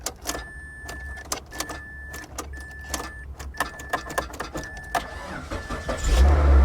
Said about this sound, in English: Started right up.